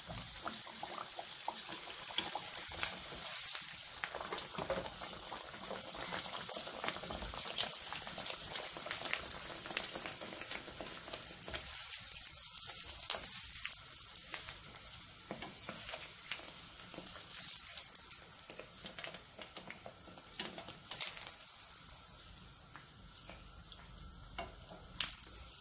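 Sesame-coated dough pieces fry in hot oil, giving a steady, close bubbling sizzle that runs the whole time with small fluctuations and no talking.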